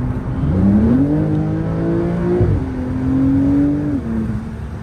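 A black Porsche 992 Turbo S accelerates hard, engine note climbing through rising pitch sweeps with a gear shift midway, then pulling up again. Loud and close, with no talking.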